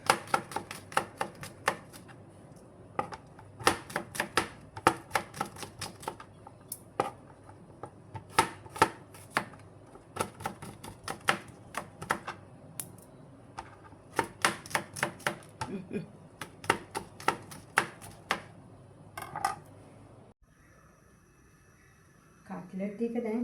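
A knife finely chops garlic on a board in quick, crisp bursts of rapid taps separated by short pauses, close and fairly quiet, ending in a brief quieter stretch.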